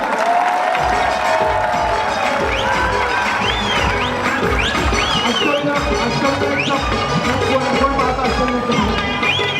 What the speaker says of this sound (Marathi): याच्याकरता एकदा जोरदार टाळ्या पाहिजे अष्टविनायकसाठी